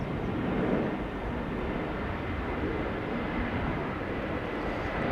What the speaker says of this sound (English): You can also hear a helicopter passing just